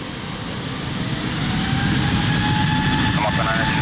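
An airliner taking off from runway 02 at Lisbon Airport, its jet engines roaring loudly and building in intensity into a broad, steady thunder.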